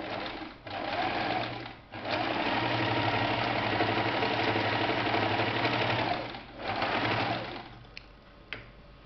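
A sewing machine runs in long steady bursts while stitching a fabric face mask, its motor whirring close and loud with brief pauses between runs and a few light clicks at the end.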